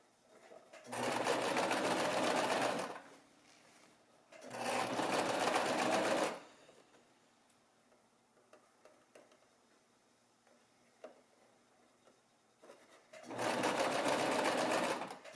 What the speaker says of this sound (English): Pull your fabric taut to try to keep them getting a pucker in it.